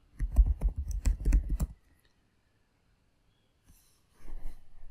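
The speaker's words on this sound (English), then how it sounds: "Type and hit enter." Quick bursts of keystrokes on a computer keyboard while a command is typed on Ubuntu, a dense clatter for under two seconds, then a pause and a short second burst of keys, close and clear.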